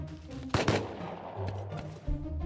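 A short close burst of gunfire in the survival video game Rust, a few rapid shots in quick succession, then quieter game ambience with another faint shot.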